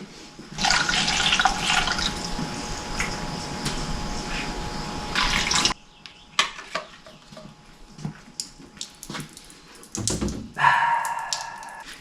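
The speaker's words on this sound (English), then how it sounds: "Okay, put some more water in it." Water poured into the cooling system of a 1968 Mustang engine: a steady splashing stream for several seconds that cuts off, followed by scattered knocks and clunks and a brief renewed gush near the end.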